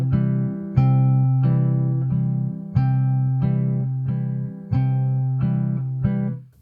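An acoustic guitar is fingerpicked in 3/4 with thumb and ring finger, a repeating pattern of bass notes and melody notes ringing clearly and alone, with a fresh pluck about every second.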